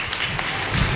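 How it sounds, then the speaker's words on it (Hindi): Audience applause welcoming a donor at a devotional Bhagavat Katha gathering, a steady wash of clapping filling the whole second at moderate loudness. "जोरदार तालियों से इनका स्वागत कीजिएगा।"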